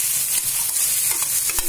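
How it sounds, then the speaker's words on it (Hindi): Chopped onions sizzle in a hot pan for a matar paneer curry, a bright continuous hiss with brief stirring scrapes, close and alone. "प्याज भी मैंने छोटा छोटा भूज लिया है इसको,"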